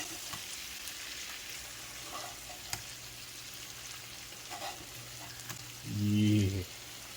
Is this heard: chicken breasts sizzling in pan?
yes